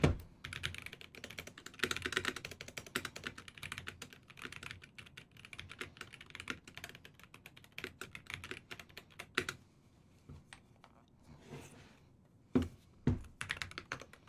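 Quick, uneven keystrokes clatter on a Tofu 60 keyboard fitted with Boba U4T switches, crisp close-up taps in bursts that thin out toward the end, with no voices.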